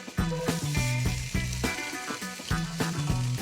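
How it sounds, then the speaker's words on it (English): Corn hits melted butter in a hot pan and sizzles steadily, a constant frying hiss under rhythmic background music. "My butter is melted. I'm gonna add my corn."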